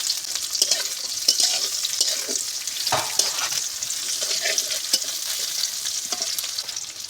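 Onions and green chili stir-frying in a pan, a steady bright sizzle with scraping stirs and spoon knocks recurring throughout, close and continuous with no talking.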